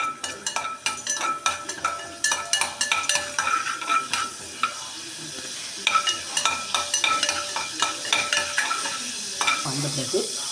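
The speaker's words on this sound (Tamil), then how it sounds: "இதுக்கு கொஞ்சம் எண்ணெய், இதில் வந்து உளுந்தம்பருப்பும் சோம்பும் போட்டால் போதும்" Urad dal and fennel seeds fry in a little oil with a steady, close sizzle, while a metal spoon stirs and taps rhythmically against the pan throughout.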